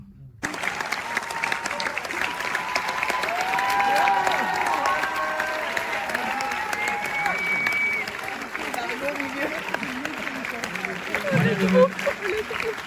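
Audience applause after a speech, a dense sustained clatter of clapping with some cheering and crowd noise, steady throughout and swelling slightly near the end.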